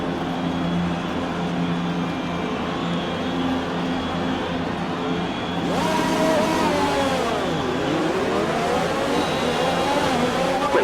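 Formula One car engine in the F1 2020 game droning steadily at idle, then revving sharply upward around the race start, with pitch sweeping up and down as the RPM climbs and shifts.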